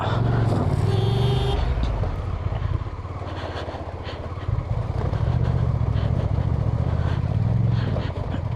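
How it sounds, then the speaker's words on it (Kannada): A large Honda car spinning its wheels on a rough road, a loud continuous engine roar with grinding tyre noise that surges and dips, close by, with voices talking over it. "ಸ್ಪಿನ್ ಹೊಡಿತಾ ಇದೆ ದೊಡ್ಡ ಗಾಡಿ ಹೋಂಡಾ"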